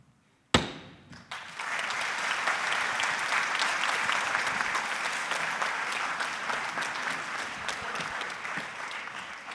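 After a sharp thump, an audience at a student mock congressional hearing breaks into sustained applause, a dense even roar of clapping that swells quickly and holds steady.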